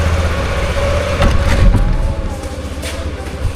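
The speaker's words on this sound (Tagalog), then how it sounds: "Medyo matagal mag-start. Yan, ayos na, painitin lang natin yung makina." A vehicle engine idles and settles after a slow, hard start, a steady mid-loud running drone with slight swells in revving throughout.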